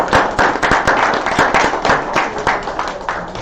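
A church audience claps together in a dense, lively burst of applause that holds steady throughout, with a few murmured voices faintly underneath.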